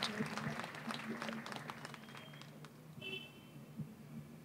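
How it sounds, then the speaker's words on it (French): An audience applauding at the opening night of the Dakar Court 2023 film festival, a dense, distant-sounding wash of clapping that thins after a few seconds, with faint voices mixed in. "Applaudissements"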